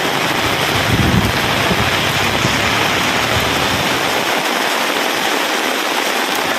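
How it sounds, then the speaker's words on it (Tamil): Steady drizzle falls across the suburbs of Chennai, a dense, continuous hiss of rain that stays loud and even throughout, with no voices. "சென்னை புறநகர் பகுதிகளான பாடி, கொரட்டூர், அம்பத்தூர், கள்ளிக்குப்பம், வில்லிவாக்கம், கொளத்தூர், மாதவரம், மதுரவாயில், வடசரவாக்கம், ராமாபுரம், வானகரம், போரூரிலும் சாரல் மழை பெய்தது"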